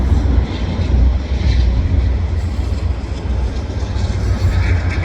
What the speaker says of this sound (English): Oh, it's a Via train.